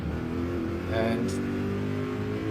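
A GT endurance race car at Road Atlanta roars steadily, easing slightly on a brief lift and upshift before pulling on, its engine tone continuous and loud under a commentator's voice.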